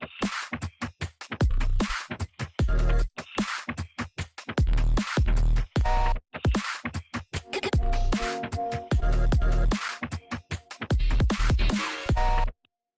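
Full electronic beat drop with no vocals: a dense, driving pattern of heavy kicks, snares and hi-hats layered with distorted chord tones, loud and continuous for several bars before cutting off.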